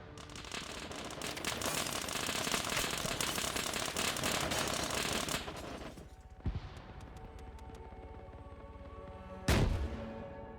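Rocket launcher backblast explosions in a military shooter game, a dense run of booming blasts and gunfire-like cracks for several seconds, then a quieter stretch broken by a sharp bang and a loud final blast near the end.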